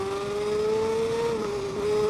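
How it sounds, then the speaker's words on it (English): A racing motorcycle in the TT Isle of Man 2 video game, on the Isle of Man TT road course, engine braking and downshifting: a loud, steady engine drone whose pitch dips and shifts, heard alone without talk. "look at that engine braking as well"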